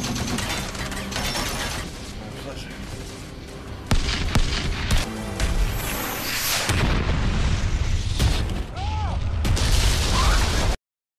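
Gunfire and explosions from a Resident Evil zombie film, with sharp booming blasts and bursts of shots layered over a rumbling action soundtrack, loud and close, ending abruptly.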